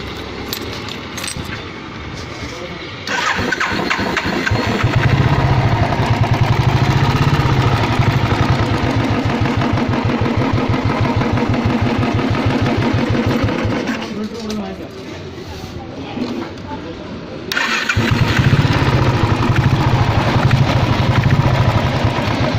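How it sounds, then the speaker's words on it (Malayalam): A Royal Enfield motorcycle with a newly repaired self-start and freshly refilled oil cranks and catches, then idles loudly and steadily with a thumping pulse. The engine dips briefly before running up again, with people talking over it. "ഇനി നമുക്ക് സ്റ്റാർട്ട് ചെയ്ത് കാണാം."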